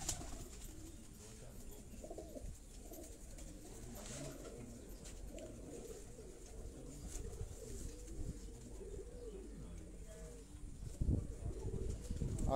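Pigeons perched on a rooftop in Sialkot give repeated soft coos close by over a low background rumble, with occasional chirps and a flutter near the end.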